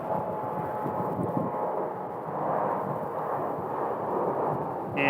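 A DHL cargo airplane at Phoenix Sky Harbor Airport gives off a steady, broad jet roar at moderate distance, holding fairly even throughout with slight swells.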